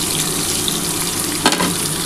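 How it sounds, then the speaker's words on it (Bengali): Potato and pumpkin pieces frying in a pan, a steady close sizzle with a brief stir or clink midway, no voices. "আমি একটুখানি আলু আর কুমড়োটা ভেজে নিই বন্ধুরা"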